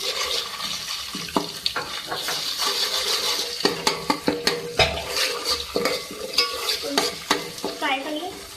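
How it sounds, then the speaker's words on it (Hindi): Onion with ginger garlic paste frying in a pan for aloo sem sabzi, steady sizzle under repeated clinks and scrapes of a spoon stirring against metal, close and busy. "फ्राई कर लें।"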